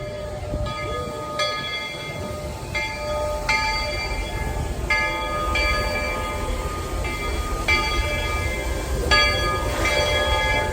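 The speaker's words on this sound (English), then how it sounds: "The Walt Disney World Railroad is coming in." The Walt Disney World Railroad train rumbles into a station at Magic Kingdom, with repeated bright bell-like chimes ringing out over the low mechanical noise.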